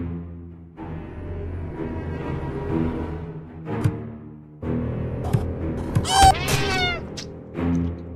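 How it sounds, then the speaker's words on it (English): A cat meows in the video game Friday the 13th: Killer Puzzle, with several drawn-out, tonal cries over a buzzing musical backdrop, and one sharp, rising yowl stands out near the end. "Jason, don't hurt the kitty."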